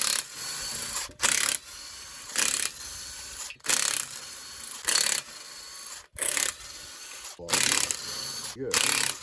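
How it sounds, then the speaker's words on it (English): A ratchet on the cylinder head bolts of a Gen 3 Hemi engine, heard as a rhythmic series of about eight loud clicking ratchet strokes, evenly spaced with brief pauses between each, close up. "On the head bolts, we're going to crack them loose in a spiral pattern."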